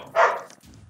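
A single dog bark rings out, fairly close and loud, followed by faint low background noise.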